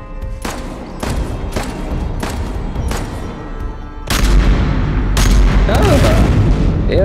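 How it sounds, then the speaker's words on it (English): Sniper rifle shots fire in Uncharted: The Lost Legacy, a run of loud sharp cracks roughly every half second to second, followed by a heavier boom and sustained rumble with game sounds mixed in. "I need the sniper again."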